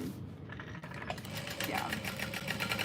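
A domestic sewing machine bastes overlays onto a tote bag with a rapid, steady mechanical chatter that builds after the first second, heard close and fairly quiet, with a voice faintly underneath.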